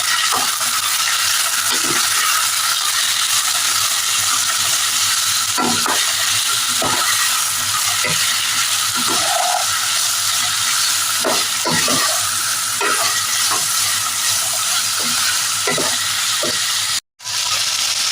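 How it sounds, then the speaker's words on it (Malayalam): Vegetables for masala Maggi sautéing in a hot pan, a loud continuous sizzle and hiss with repeated spatula scrapes and clinks over it, then a brief cutoff near the end. "വെജിറ്റബിൾസ് ഒക്കെ ഇട്ട് കൊടുത്തിട്ടുണ്ട്. നമുക്ക് ഇളക്കി വഴറ്റി കൊടുക്കാം."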